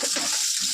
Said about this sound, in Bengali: পনির কিন্তু আমার ভাজা হয়ে গেছে